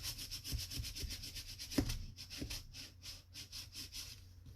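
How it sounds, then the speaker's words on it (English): A folded paper pop-up cube card is burnished flat after gluing, making soft, quick rubbing strokes in a steady back-and-forth rhythm, faint and close up. "I'm just going to give that a bit of a burnish down."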